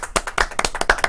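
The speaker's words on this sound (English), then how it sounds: "Let's get some claps, people." A small studio audience clapping after game jam results are announced, a quick burst of a few hands clapping sharply and close, uneven and short.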